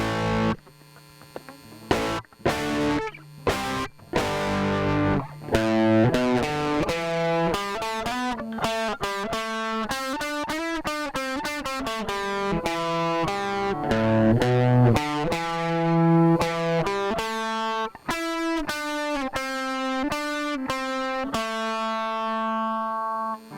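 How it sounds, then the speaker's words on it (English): An electric guitar plays through a rare Canadian distortion pedal with the drive set three-quarters up, giving a moderate, crunchy tone on a run of picked notes and chords, with no one talking. "So we're going to take this 3/4 of the way up now for the distortion."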